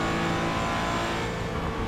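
Porsche Cayman GT4 engine in iRacing at Laguna Seca, a steady high-revving onboard engine whine holding strong through a short stretch, loud and close with no talk.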